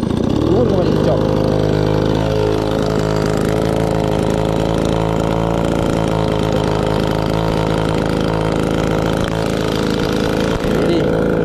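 A farm blower engine runs steadily and loudly throughout, a constant droning motor note with no pauses.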